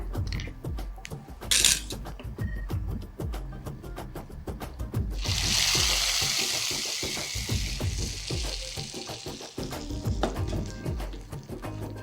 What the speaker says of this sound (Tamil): முந்திரி பருப்பும் வறுபட்டுறது சேர்த்துடலாம்